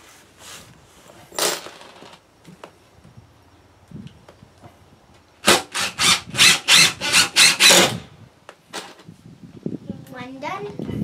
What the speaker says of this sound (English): just a few screws, enough to hold it in place